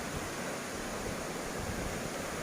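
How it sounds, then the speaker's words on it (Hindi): A waterfall about 120 to 130 feet high at Ozarde in Koynanagar, Satara, roars as a dense, steady wash of falling water, loud and unbroken with no voices. "जिस ऊंचाई से ये पानी वाटरफॉल का गिरता है नीचे, वो हाइट है लगभग 120 से 130 फीट जितनी।"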